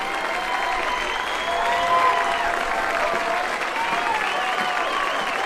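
A high school baseball crowd at a Texas 6A state semifinal with Keller at bat, cheering and applauding in a steady, dense wash that swells slightly midway and holds for the whole stretch.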